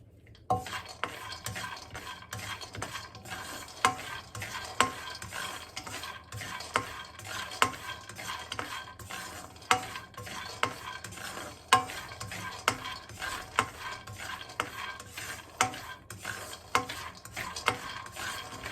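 Something roasts in oil in a wok while a utensil stirs and scrapes against the metal in steady repeated strokes, with a low sizzle running underneath and sharper clinks standing out now and then.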